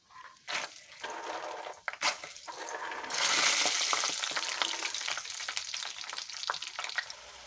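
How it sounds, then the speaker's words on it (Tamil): Peanuts frying in hot refined oil inside a strainer, a dense close sizzle with scattered clinks and splutters that swells louder about halfway through and carries on steadily, with no talking. "எண்ணெய் நல்லா சூடான உடனே இந்த மாதிரி ஒரு ஸ்ட்ரைனரை எண்ணெயில் போட்டுட்டு வேர்க்கடலை போடுறேன்"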